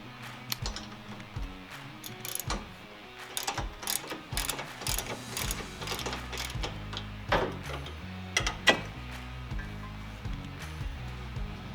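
A ratchet wrench loosens a bolt on a UTV door of a 2018 RZR XP Turbo in repeated close, clicking strokes, with irregular bursts and brief pauses throughout.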